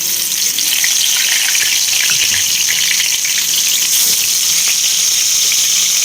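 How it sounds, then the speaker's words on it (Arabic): Fish fries in hot oil, a loud, steady, close sizzle with a bright crackling hiss that continues without a break and with no voices. "زي ما انتم شايفين كده بقلي السمك"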